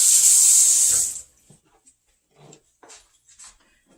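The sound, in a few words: washing hands under a running tap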